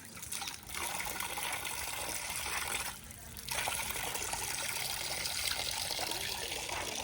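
Water runs steadily from a tap in a village, a continuous trickling gush with a brief dip in flow partway through.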